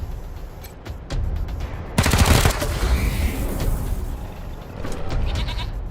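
Gunfire in the video game Wasteland 3 comes as a loud burst of rapid shots, with a few sharper cracks and game effects before and after, over a low background hum.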